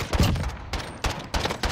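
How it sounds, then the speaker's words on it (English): Gunfire in a video game sniping match: several bursts of shots in quick succession, loud and sharp, spread across a short stretch with brief gaps between volleys. "They almost shot me."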